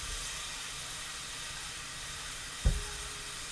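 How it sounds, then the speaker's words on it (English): Onions sweating in a pan for a basic tomato sauce, a soft steady sizzle and hiss with a single dull knock near the end, no voices. "I want to sweat my onions."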